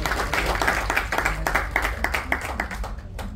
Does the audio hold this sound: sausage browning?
no